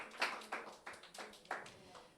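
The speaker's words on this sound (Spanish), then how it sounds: "Dele aplausos al Señor" Church congregation applauding: a light, faint, irregular patter of claps from several people, spread out in soft bursts.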